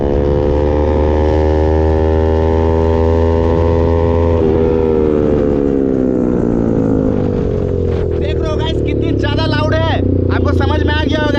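Pulsar RS 200 motorcycle with an Austin Racing aftermarket exhaust, engine running loud and steady with harmonic drone shifting in pitch as it revs, a voice talking faintly near the end.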